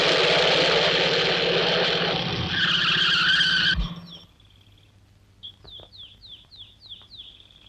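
A car engine runs loudly with a tire squeal as the vehicle swings around, then cuts off abruptly, leaving quiet background with a repeating chirping sound.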